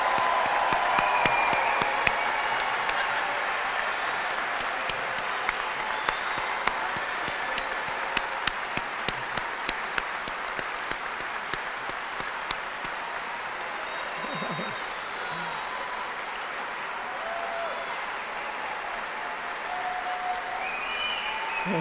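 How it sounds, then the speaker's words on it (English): Family and friends in a commencement hall give graduates a long, sustained round of applause, dense clapping filling the space for about twenty seconds with a few voices mixed in. "take a bow and hear the applause from your family and friends"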